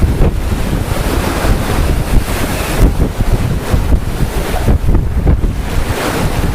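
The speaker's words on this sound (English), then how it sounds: "Now a little gust and keeps the boat on a true course." Wind gusts and breaking waves rush continuously around a sailboat under reefed jib and mainsail, close and loud, with wind buffeting the microphone throughout and no voices.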